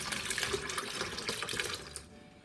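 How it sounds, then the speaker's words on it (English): Ice-cold water pours steadily into a pitcher of sweetened strawberry iced tea, a close, continuous splashing that fades out toward the end. "next we're gonna add in 4 cups of ice cold water"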